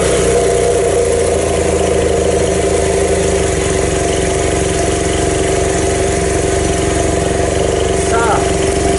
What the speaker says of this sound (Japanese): とりあえずエンジン始動しますか。